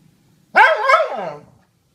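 A jealous dog lets out a single close, loud bark with a whiny, drawn-out tail, set against otherwise quiet surroundings.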